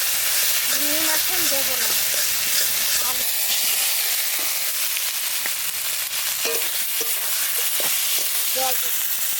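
A turmeric spice paste with water sizzles and hisses in a pan while a hilsa fish curry is cooked, with scattered small pops and crackles and someone talking briefly at the start.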